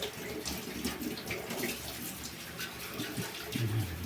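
Tap water running steadily into a sink while a baby feeding bottle is washed, a constant close hiss and splash with light clinks of handling and a faint voice underneath.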